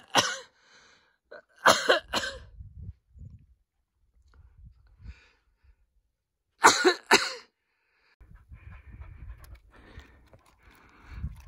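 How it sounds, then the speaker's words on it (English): Someone coughs in an ice cave, giving sharp, harsh coughs in three separate clusters with quiet gaps between them. Softer rustling and breathing fill the pauses. "Just leave me here to cough"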